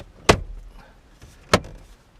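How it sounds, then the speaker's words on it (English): A plastic dash bezel on a 2012 Ram 1500 snaps into place with two sharp, close clicks about a second apart in an otherwise quiet truck cab. "start at the bottom and just snap it in. Each corner should snap."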